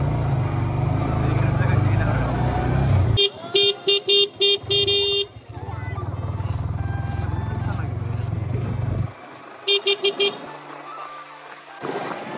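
A new V3 motorcycle is ridden through traffic, its engine droning steadily and close, broken by two clusters of rapid horn toots and brief quieter gaps.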